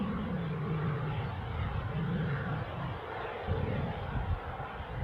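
A fixed-wing aircraft engine roars steadily at Newcastle International airport, a loud, continuous drone with slow shifts in pitch and no talk.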